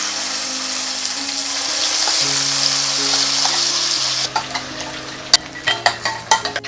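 Corn paste poured into hot ghee for corn laddoos fries with a steady hiss that turns sharper, with spoon clicks and scraping against the pan toward the end.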